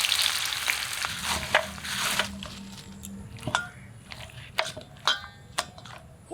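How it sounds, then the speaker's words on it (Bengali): Mutton fries with onions in ground spice paste, a loud hissing sizzle at first that settles into quieter frying punctuated by sharp spoon clicks and scrapes of stirring, close to the pan. "বাটা মশলায় কষিয়ে নিলাম"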